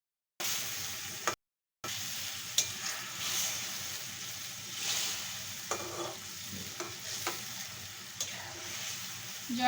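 Bangladeshi-style mustard hilsa curry stirred in a pan just after a cup of water goes in: a continuous soft sizzling bubble with gentle spoon scrapes and light knocks, briefly cut to silence near the start.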